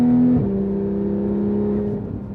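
Porsche 911 GT3 RS (991.1) engine held at a steady, moderate rev, then a short upshift drops the pitch to a lower steady drone that fades slightly near the end; loud and close, with no talk.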